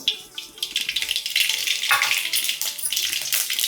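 Mustard seeds spluttering in hot oil in a kadai, a dense steady sizzle with crackling pops running throughout, fairly close and alone with no voices.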